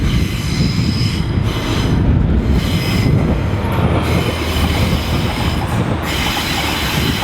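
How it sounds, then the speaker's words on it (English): Loud, close rumble of a Pacer diesel train pulling into a station, with steady engine drone and wheel noise on the rails. "we have a pacer and this might be our train"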